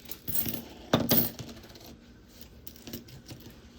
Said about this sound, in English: Oh, yeah, I got some extra change here.